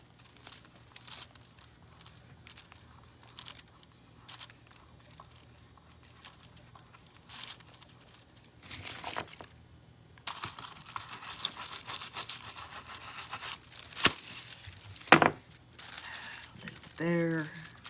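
Transfer foil film rubbed onto a surface and then peeled away, a soft scratchy rubbing giving way to louder crinkling bursts and a sharp peel near the end, close and fairly quiet.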